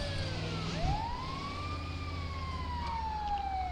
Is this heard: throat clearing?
no